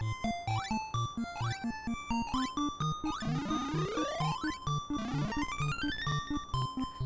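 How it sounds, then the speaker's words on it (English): Chiptune music from the Bubble Bobble arcade game plays at a steady bouncing rhythm, then a bright rising run of bleeping arpeggios sweeps upward as the extra-life jingle. No voices are heard. "Ah, you hear that? That's the sound of an extra life."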